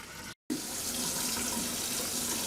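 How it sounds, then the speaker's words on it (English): Tap water runs steadily from a kitchen faucet fed through a newly installed under-sink filter system, a constant rushing hiss broken by one brief silent gap near the start. "while we let the water run to clear the filter and get it ready for use"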